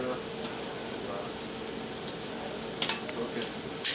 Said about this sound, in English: Cook it in hot oil.